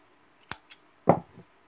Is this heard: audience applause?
no